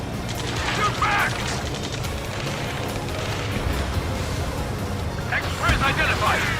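Dense gunfire from a ground firefight in the Ace Combat 7: Skies Unknown rescue mission, sustained rattling volleys and crashing impacts throughout, with shouting voices over the battle.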